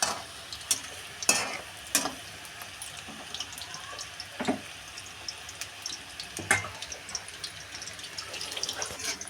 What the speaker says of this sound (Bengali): দেখুন মাংসগুলো ভাজা হচ্ছে